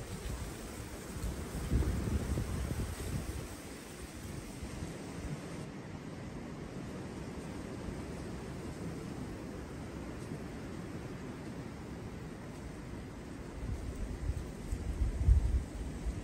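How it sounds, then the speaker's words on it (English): Strong north wind at 31 mph during a cold front, roaring steadily as broadband rumble with gusty surges near the start and end, close and loud with no talking. "The wind switched to the north, but it's 31 miles per hour."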